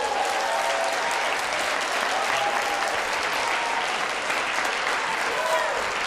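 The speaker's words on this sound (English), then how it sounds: "I want to thank everybody who wants to applaud for these folks who have been up here." A hall audience applauds the Democratic candidates for Rhode Island governor after a debate, a full, continuous roar of clapping that stays even and loud throughout, with some voices under it.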